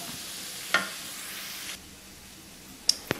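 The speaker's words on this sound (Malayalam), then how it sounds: "അര ടീസ്പൂണോളം വെളുത്തുള്ളി ഇഞ്ചിയും ചതച്ചത് കൂടി ചേർക്കാം ഇത് നമുക്ക് നന്നായിട്ടൊന്ന് മിക്സ് ചെയ്തെടുക്കാം" Crushed garlic and ginger frying in a pan for mutter paneer, a spatula stroke then a steady hiss that drops quieter, followed by two sharp utensil taps against the pan, no talking.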